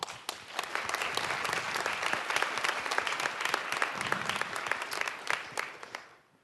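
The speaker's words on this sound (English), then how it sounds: "a round of applause for Osaka City for sponsoring this and making it happen" A hall audience at the HackOsaka 2015 event applauds the sponsor and volunteers. Dense, sustained clapping and crowd noise run strong for several seconds, then taper off at the end.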